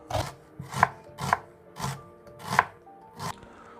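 A knife slices a halved red onion into thin rings on a board, six crisp, evenly spaced cuts heard up close with no talking.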